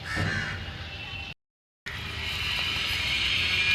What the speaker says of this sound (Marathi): झाडावर एवढे पक्षी आहेत आणि ओरडत आहेत पाण्यासाठी.